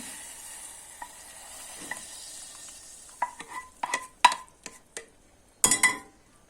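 Hot mint oil sizzles softly as it is poured into chicken vermicelli soup, followed by a series of sharp clinks and scrapes of a utensil against a pot, close by, with no talking.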